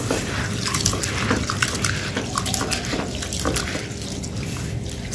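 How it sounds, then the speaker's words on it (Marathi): Urad dal and fenugreek seeds being rinsed in water, a steady close splashing and trickling with soft sloshes throughout, no voices. "उडीद डाळ, मेथी दाणा हे सगळं आपल्याला स्वच्छ आता पाणी घालून धुवून घ्यायचं आहे"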